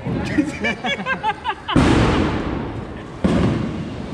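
Diwali firecrackers in Mumbai go off in two loud close blasts with crackling tails, after people chatting nearby.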